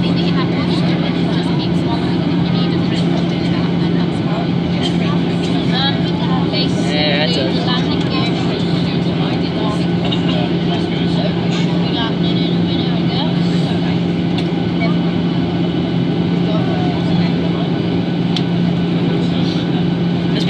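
A Thomson Boeing 737-800 comes in to land at night at Arrecife Airport on Lanzarote, its cabin filled with a loud, unbroken roar and a steady engine hum as it slows down, with faint voices underneath.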